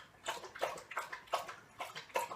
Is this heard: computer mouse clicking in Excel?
no